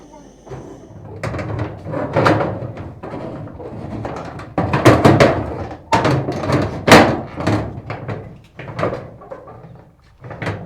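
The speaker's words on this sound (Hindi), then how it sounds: "तो दरवाज़ा जो है ना वो हमारा थोड़ा सा मुश्किल से लगता है, लेकिन लग जाता है।" A household door pushed shut with some difficulty, giving repeated thumps and knocks of varying loudness, close by, with someone talking at times amid the clatter.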